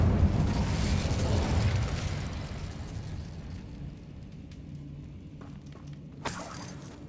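Incendio fire spell cast in Hogwarts Legacy, a loud roaring fiery burst that fades over several seconds into a lower rumble, followed by a sharp crackling flare near the end.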